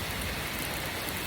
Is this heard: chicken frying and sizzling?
no